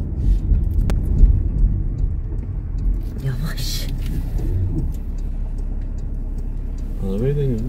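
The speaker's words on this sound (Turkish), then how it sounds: "Arabayı deniyoruz." Car engine running during a test drive, a steady low road rumble and engine drone throughout, with a voice speaking briefly over it.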